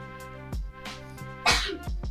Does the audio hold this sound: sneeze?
yes